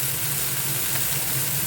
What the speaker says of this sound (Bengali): আমি বেগুনটাকে ভেজে তুলে নিই, তারপরে নিমটাকে দিয়ে ভেজে তারপরে ওই দুটো একসাথে করে দেবো।